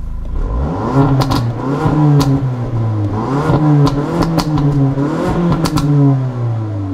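A 2023 Ford Focus ST hot hatch revving in sport mode, its exhaust rising and falling through several loud, close blips with crackles and pops between them and no talking.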